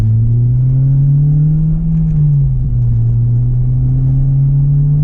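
An Acura RSX-S fitted with new motor mounts pulls away and accelerates. Its engine drones steadily and loud close by, with pitch rising and falling gently as the revs change, and no talking over it.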